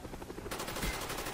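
Rapid submachine gun fire from a Marathon Lightweight Steady Aim rush loadout in Call of Duty: Black Ops, a dense, steady burst that gets louder and heavier partway through and carries on without a break.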